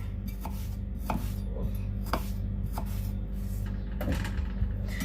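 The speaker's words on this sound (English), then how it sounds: "So we've cut one potato" A knife cutting a potato into thin shoestring fries, sharp thuds of the blade on a cutting board roughly every half second, close and fairly loud, with a faint steady hum under them.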